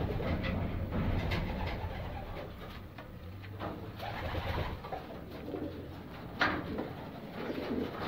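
Racing pigeons, prize birds flown in 370-mile races, coo in a Florida loft, a steady low murmuring that fills the space with scattered flutters and a brief louder knock near the end.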